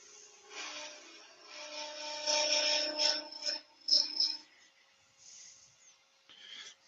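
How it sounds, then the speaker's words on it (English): Brass being turned on a wood lathe with a slight negative-rake tool gives close, harsh scraping and cutting over a faint motor whine, building in several strong bursts, then dropping to quieter intermittent scrapes. "I've never turned any metal on a wood lathe before."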